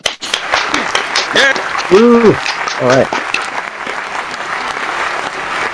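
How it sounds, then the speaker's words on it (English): Loud applause from an open-mic comedy crowd welcoming a performer, dense clapping throughout with whoops and a couple of short shouted words over it. "Give a big round of applause for Meme Master."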